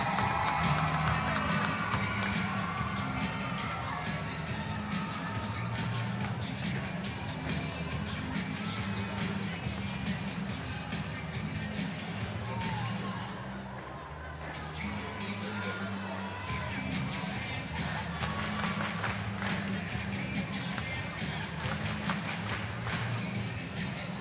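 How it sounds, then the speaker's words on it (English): Gymnastics crowd at a 2018 NCAA Regional at Penn State clapping and cheering in a large arena, a sustained roar of claps, shouts and whoops with a brief dip midway before it swells again. "based on all of you clapping"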